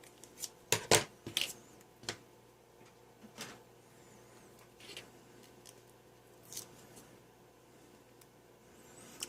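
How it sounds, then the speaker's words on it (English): A few quick snips of scissors cutting, close and crisp, spaced out with rustling and small handling sounds between them. "Take any old pair of scissors and not cut my wires off."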